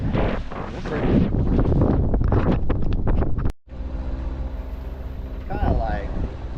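Strong wind buffets the microphone on a boat near Man O War and Great Guana Cay, a steady low roar. A person talks over it in the first half, then the roaring gust continues alone.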